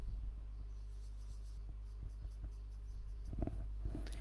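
A pen draws x and y axes on notebook paper: faint, brief scratching strokes over a steady low hum, with no talking.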